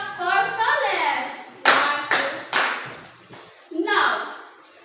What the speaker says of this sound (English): Give 3 claps for Soles